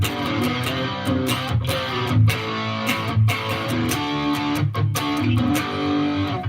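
Electric guitar through a modified Plexi amp model on a Headrush effects unit, with reverb and high end tamed; loud, driven chords and palm-muted chugs in a steady rhythm, played alone with no talking.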